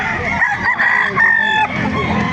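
Chickens at a poultry market in Baliuag, Bulacan give a loud, close, drawn-out crow over the crowd's murmur, with brief clucking around it.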